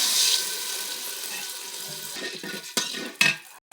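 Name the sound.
water poured into pan of fried onions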